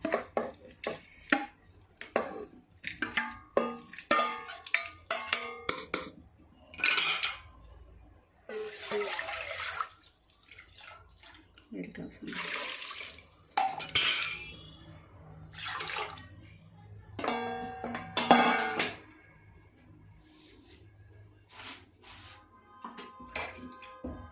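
Beef goes into a pressure cooker and water is poured in, with splashing, gushing pours and clatters of the pot over a long, busy stretch.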